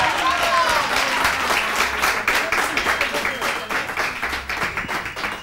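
A television studio audience bursts into sustained applause and clapping, loud at first and then thinning into scattered claps, with some voices and cheering mixed in.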